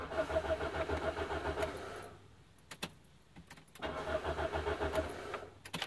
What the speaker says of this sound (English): I'm going to set this phone here and I'm going to start the car